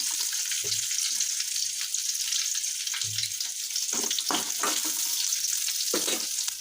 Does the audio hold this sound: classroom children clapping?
no